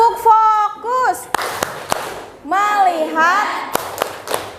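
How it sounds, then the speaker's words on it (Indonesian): Children in an Indonesian classroom perform the tepuk fokus rhythmic clap ice breaker, sharp single claps spaced between sung and chanted phrases led by a teacher's voice. "Tepuk fokus."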